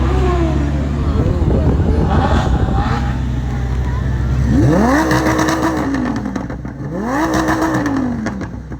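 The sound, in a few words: Porsche sports car engine revving with exhaust pops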